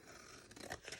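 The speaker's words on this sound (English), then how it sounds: "I'm going to snip those corners" Scissors snip the corners of a paper cupcake treat box, a quick close series of faint crisp cuts and paper crinkles over about a second.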